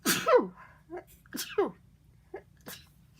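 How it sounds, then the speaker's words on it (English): A sharp, loud sneeze bursts out close up, followed by a few quieter breathy vocal sounds and short noises. "I had to sneeze."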